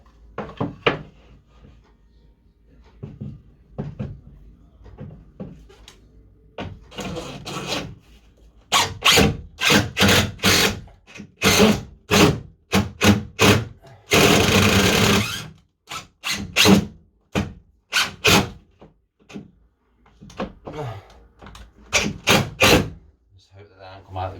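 Three-inch countersunk screws are driven into wood with a power driver in a run of sharp, loud whirring bursts separated by pauses, one longer grinding burst in the middle.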